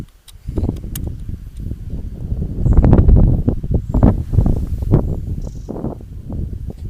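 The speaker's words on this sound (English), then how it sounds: "Getting a little bit windy now" Wind gusts outdoors buffet the microphone with low rumbling bursts that swell and fade, loud and close, along with faint rustling and occasional small knocks.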